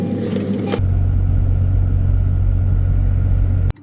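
Interior of a Range Rover-style vehicle? No—a car with badly misaligned wheels rolling along the road, a steady loud low road and engine rumble filling the cabin, cutting off abruptly at the end.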